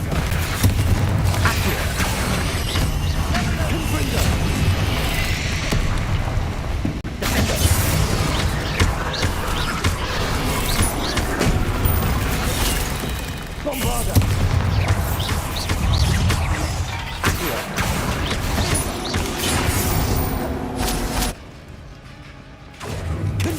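Bombarda spell explosions in the video game Hogwarts Legacy, repeated booming blasts and crashing impacts layered over a dense, loud battle din that continues almost without pause, easing briefly near the end.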